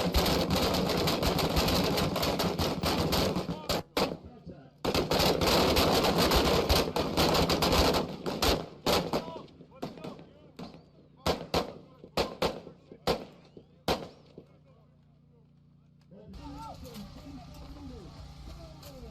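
Rapid rifle gunfire from night shooting practice in Australian Army basic training at Kapooka, with dense bursts of shots that thin into scattered single cracks before fading, followed by a quieter stretch with faint murmuring.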